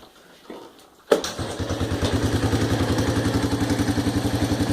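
A 1984 Honda ATC200ES three-wheeler starts abruptly after a quiet moment, then its small single-cylinder engine settles into a loud, steady, rhythmic idle close by.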